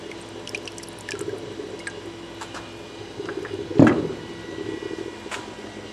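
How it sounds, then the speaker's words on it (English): A TKO dry cell battery is lifted out of water: a brief splash and squishy slosh, then soft drips and trickles over a low steady hum. "Alright, we'll pull it out of the water."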